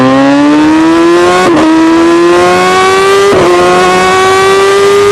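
A motorbike engine revs steadily while riding, its pitch climbing smoothly with brief dips at gear changes, loud and close throughout with no talk.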